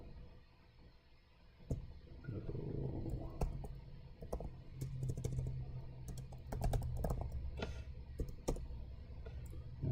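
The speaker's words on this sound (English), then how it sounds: "Try typing Eric into Amazon search" Rapid clicking and tapping of keys on a computer keyboard, close and fairly quiet, comes in irregular bursts with brief pauses, as a search term is typed in.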